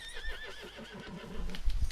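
A horse in Red Dead Redemption 2 whinnies in a high, wavering call, followed by low snorts and a few heavy thuds near the end.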